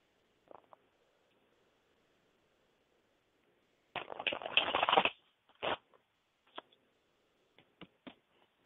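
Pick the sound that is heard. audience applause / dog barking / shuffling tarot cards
shuffling tarot cards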